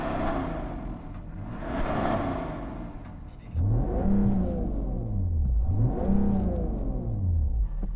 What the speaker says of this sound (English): let's rev up your car